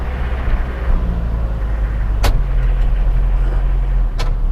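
Interior of a car moving in third gear without using the clutch, a steady close engine and road drone with two sharp clicks.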